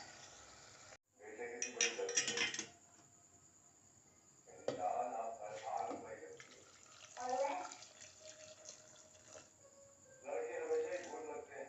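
Hot water poured into a pot of okra and meat curry (bhindi gosht) after frying, coming in several splashing, gurgling bursts with pauses between them. Each pour is moderately loud and close, with a faint clink now and then.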